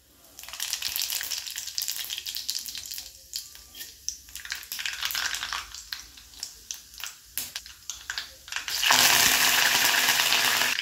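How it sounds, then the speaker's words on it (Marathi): Cumin and mustard seeds sizzle and crackle in two spoons of hot oil in a kadhai, with sharp popping spatters over a steady fry that swells into a loud, bright hiss near the end. "त्यामध्ये जिरे व मोहरीची आपल्याला चांगली अशी फोडणी देऊन घ्यायची आहे"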